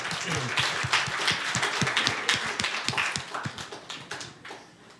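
A church congregation claps during a Sunday service, a dense burst of hand claps close by that gradually thins and fades out toward the end, with a faint murmur of voices.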